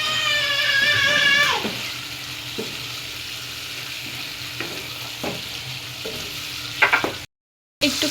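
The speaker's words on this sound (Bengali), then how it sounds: "মশলা কষানো শেষ, মাছটা দিয়ে দিচ্ছি।" Hilsa fish fries in a spiced masala with taro, a steady close sizzle with a few stirring knocks and scrapes in the pan, fairly loud and without talking.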